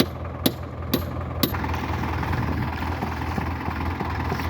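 A stuck tractor's engine idles with a low, steady rumble, opened by three sharp metallic knocks in quick succession before the drone continues alone.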